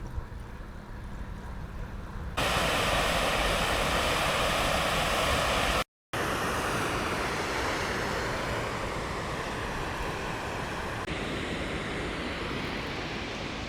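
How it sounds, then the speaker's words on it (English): Waterfall on the Grand River in Paris, Ontario, a loud, continuous roar of rushing water that swells after a quieter opening and holds steady, with a brief cut partway through. "they have some falls here"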